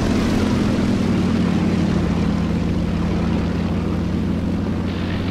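Propeller aircraft engine in a flight simulator dogfight, a continuous loud droning hum with steady low tones throughout.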